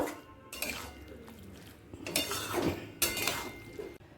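Jackfruit and prawn gravy being stirred in a pan after a sprinkle of garam masala powder, with irregular scrapes and metallic clinks of a spoon against the cookware coming in short bursts, close and fairly loud.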